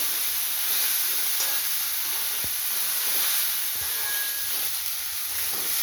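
Bitter gourd fries in hot oil with a steady, even hiss and sizzle that runs throughout at moderate level, with no talking.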